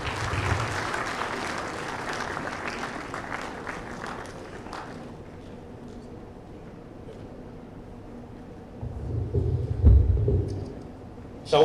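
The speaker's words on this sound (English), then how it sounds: "Shall we do one more big round of applause for His Excellency Amakai Amatefio?" An awards ceremony audience applauds, a broad crowd sound that starts full, fades to a softer patter, then swells again, with the room's murmur beneath.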